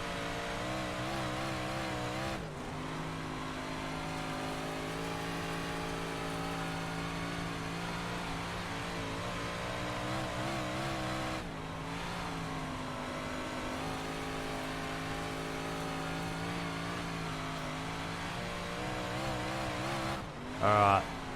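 Big block dirt cars race around Bristol's dirt oval in iRacing, their engines roaring continuously with rising and falling revs as they pass, loud and sustained, with brief dips as the cars swing through the turns.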